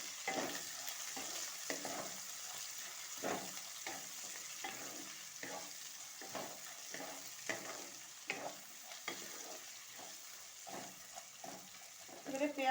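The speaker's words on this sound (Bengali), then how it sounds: "এবারে আমি দিয়ে দেবো এখানে পেঁয়াজ কুচি, কাঁচা লঙ্কা কুচি। এবারে এগুলো একটু ভেজে নেব।" Chopped onion and green chilli frying in a pan, a faint steady sizzle broken by soft scraping stirs at irregular intervals, with a few quiet knocks near the end.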